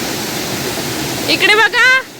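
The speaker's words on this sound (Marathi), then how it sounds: "आले ही छोटी नदी आहे." A small river in the Konkan region flows with a steady broadband rush throughout, and a voice speaks briefly over the water near the end.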